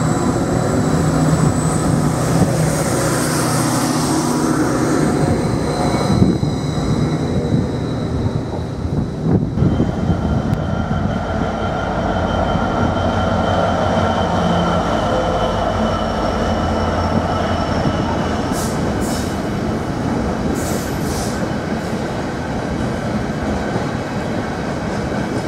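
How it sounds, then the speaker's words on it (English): A GB Railfreight Class 66 diesel locomotive hauls a short engineer's train through platform 1 at Ely station: a loud, steady rumble and clatter of wagons passing close by, with high squeals partway through, no voices. "just had a GB Railfreight Class 66 pass through platform 1. Hauling a short engineer's train"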